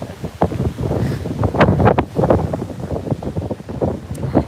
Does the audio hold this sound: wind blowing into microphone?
yes